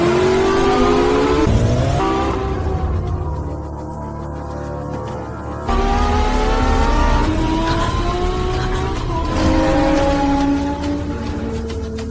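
Race cars roar past during a race, their engines whining loudly with rising and falling pitch sweeps, and a sharp drop and surge as they pass close by.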